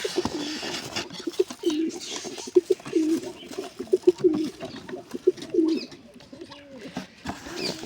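Pigeons coo repeatedly in low, throaty, rolling calls close by, overlapping in an irregular rhythm, with a voice and soft rustling underneath.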